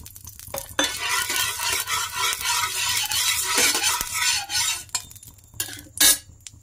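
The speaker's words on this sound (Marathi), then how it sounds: "आता तवा गरम झालेला आहे, ह्याच्यावर तेल टाकून घेऊ." Oil sizzles loudly on a hot griddle (tawa) after a brief quiet start, a bright crackling hiss that fades near the end, followed by a sharp clank.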